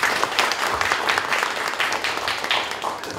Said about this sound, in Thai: ขอเสียงปรบมือต้อนรับท่านรองประธานครับ